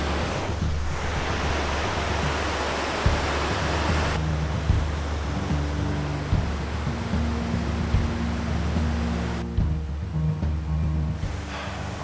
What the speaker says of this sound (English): This is the third waterfall we've been to, and oh yeah, this is pretty cool. There's like a log running right through it.